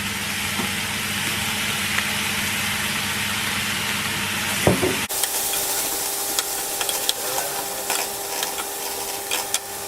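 Onions fry in oil in a pan, giving a steady sizzling hiss over a low hum. After an abrupt cut it becomes sparser crackling with scattered sharp pops.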